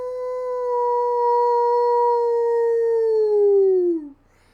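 A man imitates a wolf howl indoors, one long steady howl that holds for about four seconds before sliding down and cutting off, loud and close.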